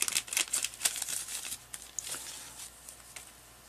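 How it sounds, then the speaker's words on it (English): A plastic bag of Venus fly trap seeds is handled and opened indoors, with faint crinkling, rustling and small tearing sounds in quick irregular bursts, quiet and close with no talk. "let's open up this bag"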